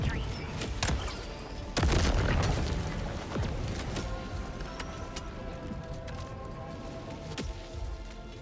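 Booming mortar sentry fire in Helldivers 2, a heavy blast near the two-second mark amid scattered distant explosions and pops, with sporadic voices and game noise underneath.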